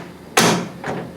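A 1955 Chevy truck door closes with a loud, solid slam, followed by a softer second thud a half second later as it settles; no voices, nearby in a shop.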